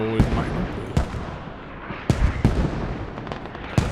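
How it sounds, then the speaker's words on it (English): Mortar shells land in Squad on the Gorodok map, a series of sharp, heavy blasts at irregular intervals, roughly six impacts over a few seconds, loud against a rumbling battlefield background. "I can't see where these mortars are coming from."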